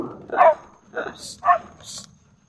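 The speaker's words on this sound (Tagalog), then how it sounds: "Bulid pa yata ng aso." A dog gives a few short barks and yips, spaced apart, fairly close, with a little human chatter between them.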